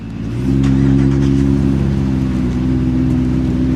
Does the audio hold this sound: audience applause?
no